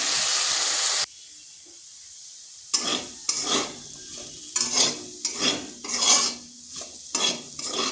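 Potatoes are stirred and dry-fried in a pan without water over slow-to-medium heat, giving repeated scraping stirs over a steady sizzle; after an initial loud hiss there is a brief quieter gap, then rhythmic bursts of stirring.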